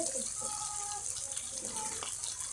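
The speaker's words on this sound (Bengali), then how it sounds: "পানি দিয়ে দিই আমরা।" Water is poured into a pot of spicy chicken curry being cooked, a steady splashing wash running for a couple of seconds at moderate level.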